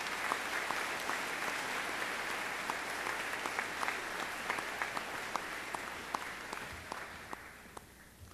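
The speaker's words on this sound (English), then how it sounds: "You are well deserving of a round of applause and a sincere thank you for your efforts at our school" Audience at a 2009 high school graduation applauding staff, a steady round of clapping from a large crowd, fairly faint and distant, gradually thinning out toward the end.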